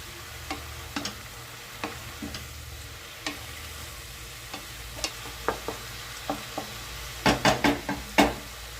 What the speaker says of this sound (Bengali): একটু নাড়াচাড়া করে নিয়ে আবার কড়াইতে ঢাকনা দিয়ে দিলাম